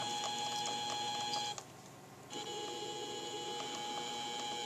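A modified mini lathe runs with a steady mechanical whine and whirr. The motor drops off briefly partway through, then spins back up to the same constant tone.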